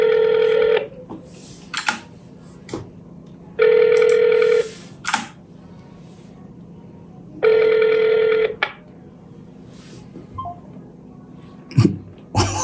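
A telephone call to the Rural Electrification Agency of Nigeria rings out, with three evenly spaced ringback bursts separated by quiet gaps and a few faint clicks, heard clearly on the line without talk.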